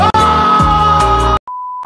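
A loud censor bleep tone covers swearing during a painful tattoo session; an initial stretch of harsh noise cuts off, and a pure steady beep follows.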